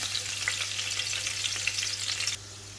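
Chopped garlic fries in oil for an eggplant and dried mola fish curry, a steady close sizzle with occasional stirring that drops off near the end.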